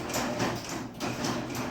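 A garage door opener with a faulty optical safety sensor reverses, sending the door back up with a steady mechanical rattling and rolling drone, close by and continuous.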